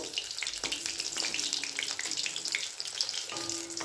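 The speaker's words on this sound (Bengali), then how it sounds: "এই যে ভাজতে দিয়ে দিলাম এরকম করে সব ভেজে নেবো" Gram flour batter dropped into hot oil to fry: a dense, even bubbling sizzle close by for a few seconds, with a faint tonal hum in the background and no speech.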